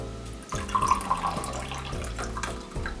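Monster Rehab Peach Tea pours from a can in a steady, close liquid trickle that splashes and gurgles for about three seconds before tapering off.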